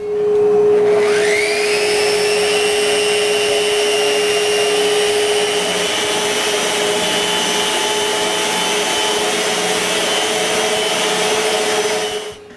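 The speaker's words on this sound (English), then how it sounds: "It's time to sand the shelves. I can finally use my new sander that I got as a birthday present." A new electric sander runs on wooden shelves for a home theater stand, spinning up quickly into a loud, steady whine and hum that holds for about twelve seconds before cutting off, close by.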